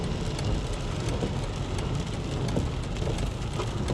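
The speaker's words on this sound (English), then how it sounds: "And again, the rain's picked up." Heavy rain falls outside a moving car, a dense, loud, steady patter and hiss of drops drumming on the surface throughout, with no one talking.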